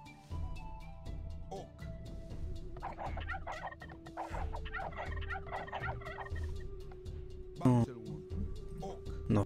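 Turkeys gobble in the Age of Empires II: The Conquerors strategy game, a few warbling game-sound gobbles amid steady game ambience, with speech running throughout.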